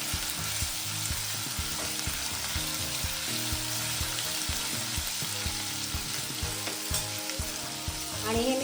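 Ginger-garlic paste and two green chillies hitting hot oil in a pan for hotel-style paneer tikka masala, a loud dense sizzle with crackling and occasional stirring, continuous and close, no talking.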